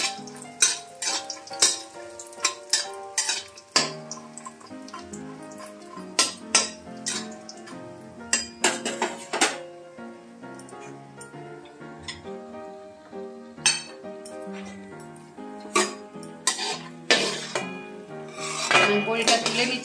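Bori lentil dumplings fry in mustard oil in a pan for Bengali shukto, with frequent metallic clinks and scrapes of a utensil against the pan over a soft background sizzle, close and without talk.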